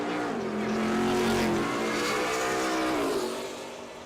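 A C3 Corvette roars down a drag strip, its loud engine climbing through high revs with a shifting tone before trailing off as the car pulls away.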